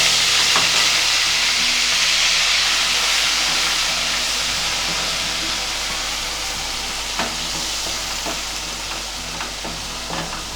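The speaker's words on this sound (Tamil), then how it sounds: "இப்போ நம்ம வெங்காயம் சேர்த்து நல்லா வதக்கிக்கலாம்." Onions sautéing in hot oil with black pepper and cloves for a paneer sabji gravy: a loud, continuous close sizzle and hiss with occasional soft stirring taps, fading slightly over time, no speech.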